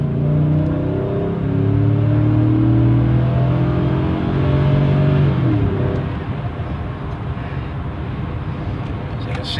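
A police-package Chevrolet Tahoe PPV with 178k highway miles accelerates onto a highway, its engine note climbing through gears in loud rising drones before settling into a steady road rumble.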